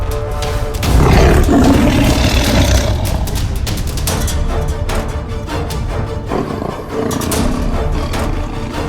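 A tiger roars close and loud, a long continuous rumbling growl with a surging onset and no voices over it.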